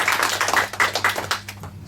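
Quick hand claps from a quiz-show audience come close together in a brisk, uneven patter, fairly light and close, fading out after under two seconds with no voices.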